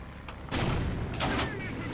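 Tank cannon fire in the War Thunder video game during a battle: a loud, sharp blast about halfway in, followed by a rumbling tail and a second burst of fire shortly after.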